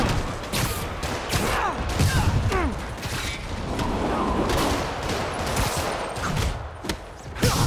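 Rocket launcher blasts and explosions in the Marvel's Spider-Man video game come in repeated loud, close bursts, with crashing and mechanical clatter in a busy fight.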